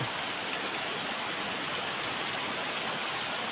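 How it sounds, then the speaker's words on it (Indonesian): Heavy rain falls in a village in a continuous, even roar, with thick drops drumming on nearby surfaces and no other sounds. "Tuh, hujannya deras sekali"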